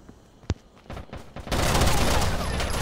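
Gunfire in the video game Rainbow Six Vegas: a few isolated sharp shots, then a sudden sustained burst of rapid automatic fire that stays loud and dense to the end.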